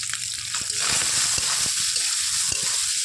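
Soybeans frying in a pan with salt and turmeric, a continuous hiss of sizzling oil broken by scattered stirring clunks and small splatters.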